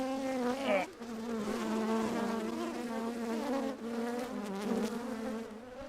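Honey bees being removed from a chimney produce a close, loud, continuous droning buzz with wavering pitch, swelling and dipping briefly but never stopping, with no talk over it.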